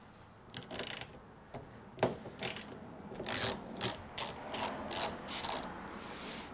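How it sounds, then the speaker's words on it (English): A ratchet loosens 10mm nuts on a Nissan 350Z side mirror, giving short bursts of rapid clicking, sparse at first and then a quicker run of close, distinct ratcheting strokes. "I'm going to go ahead and loosen these"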